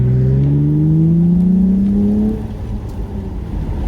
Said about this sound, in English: I hope you can hear that exhaust. It's pretty loud.